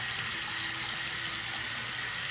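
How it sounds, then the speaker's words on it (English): Water runs steadily from a newly repaired sink faucet after a cartridge replacement, a continuous close hiss and splash into the basin with no break and no talking. "So turn the water back on into the sink, and let's check and make sure we don't have any leaks and no drips"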